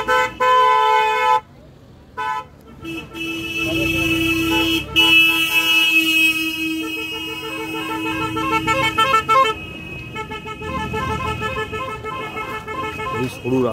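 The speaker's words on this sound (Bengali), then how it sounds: "তো পেছনে গাড়ি আসছে।" Vehicles pass along a narrow rural road near Khirai outside Kolkata, sounding repeated loud horn blasts and toots close by, while a person talks over the traffic.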